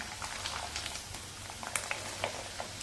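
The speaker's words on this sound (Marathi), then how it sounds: "तेलामध्ये पापड घालूया तळण्यासाठी." Ragi (nachni) papad fries in hot oil, a quiet, steady sizzle scattered with sharp pops and crackles that come at irregular intervals, heard close with no talking.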